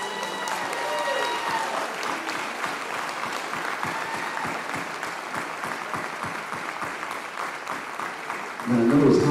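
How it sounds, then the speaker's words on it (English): An audience claps for a member honored as Member of the Year at an awards event, sustained applause from a crowd lasting several seconds, with a voice speaking over it near the end. "So everybody clap for him, please."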